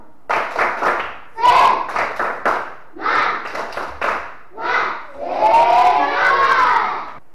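A classroom of students performs a "tepuk semangat" clapping chant, rhythmic bursts of group clapping mixed with loud children's voices chanting in unison, building to a fuller shouted finish.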